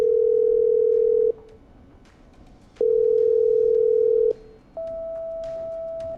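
In the game Killer Frequency, a phone call is patched through with two long, loud, steady ringback tones separated by a short gap, then a slightly higher sustained tone follows, clean and close.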